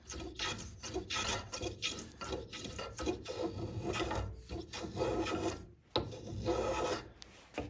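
A hand tool smooths saw-roughened wood for a marking gauge, making rhythmic rasping strokes about two per second, close and steady, briefly pausing near the end before resuming.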